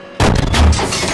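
In the tank simulator Steel Beasts Pro, a tank cannon fires a sabot round on a range: one sudden loud boom after a brief quiet moment, with a heavy low-end punch that rolls into a lingering rumble.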